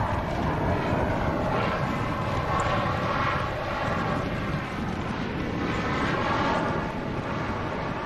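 Airbus A330 airliner departing Manchester Airport on a gusty day, a loud continuous jet engine roar with a sweeping, rising-and-falling whine as the aircraft moves past at close range.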